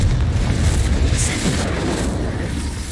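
A Confringo blasting curse explodes in Hogwarts Legacy as a loud, rumbling blast that holds a steady roar for a few seconds.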